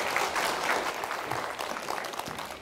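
Audience applause at a parenting talk concert in Gwangju, a dense wash of steady clapping from a seated crowd, heard alone without speech and fading slightly near the end.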